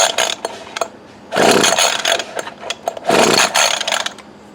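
A 20-year-old Poulan Pro hedge trimmer is pull-started twice, each long scraping rip of the recoil cord followed by a brief sputter that fails to catch, with small clicks and handling noises between pulls up close.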